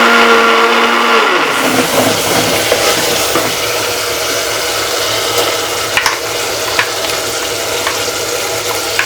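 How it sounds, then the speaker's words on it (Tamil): A mixer grinder grinding tomatoes starts up and runs loudly with a harsh whirring drone, blades churning continuously with occasional clicks. "நறுக்கி வச்சிருக்க தக்காளியும் நாம் கொஞ்சம் கிரைண்ட் பண்ணி எடுத்துக்கலாம்."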